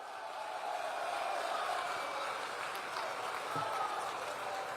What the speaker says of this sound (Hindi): अरुण जी के लिए जोर से ताली बजाओ जरा